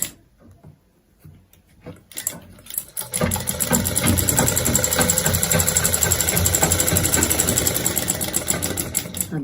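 A sewing machine stitches along a marked line on cloth in a basic tailoring lesson, starting after a few quiet seconds and then running in a steady, close, continuous whir to the end.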